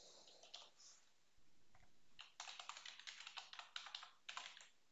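Fingers typing code on a computer keyboard, a quiet patter of light key clicks that starts sparse and then runs in quick bursts, faint and close with no talking.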